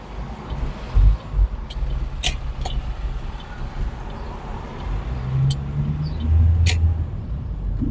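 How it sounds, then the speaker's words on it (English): Cars move through heavy traffic in Honolulu, Oahu, heard from inside a rideshare vehicle as a steady road rumble with a few low passing swells and brief clicks, no talking. "A lot of traffic, cars."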